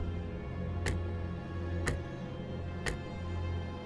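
A clock-headed character in the video game Limbus Company ticks: three sharp, isolated ticks about a second apart, set against a steady low droning background.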